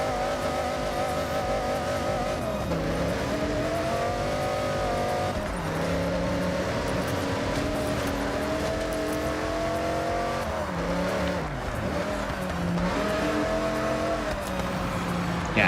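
A race car in Forza Horizon 6 is driven through rain. The engine whines loudly and continuously, with its pitch rising and dropping repeatedly through gear changes and corners.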